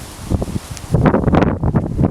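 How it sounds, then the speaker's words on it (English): Gusty wind buffets the microphone in rough, low rumbling bursts, swelling louder in the second half with a rustling texture. "It's very windy out here"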